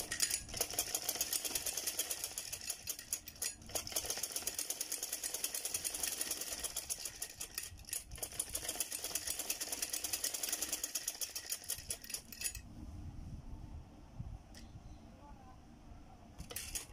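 Sewing machine stitching pleats onto a pair of trousers, a fast steady mechanical whirr running for about twelve seconds close to the microphone, then stopping, with only faint low handling noise after.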